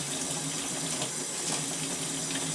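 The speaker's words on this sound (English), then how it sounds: "So back in the hot water, I use the brush to hold it." Hot water runs from a tap while a silver ring is washed with a brush, a steady close splashing rush that continues without a break.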